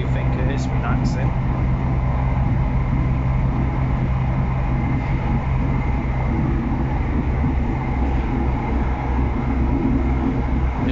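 Steady low rumble of an East Midlands Railway class 170 unit, 170512, running between Lincoln and Barnetby, heard from inside the carriage as a constant drone with faint rattles throughout.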